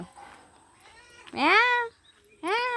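A cat meows twice, loud and close, with a pause between the calls, in a quiet room with faint background noise.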